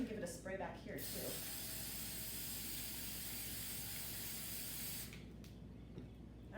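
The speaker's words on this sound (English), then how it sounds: "I think I'm just going to give it a spray back here too." A long, steady aerosol spray hisses for several seconds close by, with brief handling noises before it starts and after it stops.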